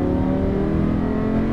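A car accelerates on a driving course, its engine droning loud and steady with harmonic tones throughout the short stretch, no talk over it.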